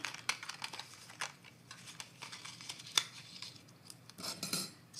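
Scissors snip through card stock during a card-making class, giving a series of short, crisp cuts at an irregular pace, close and fairly quiet, with no talking.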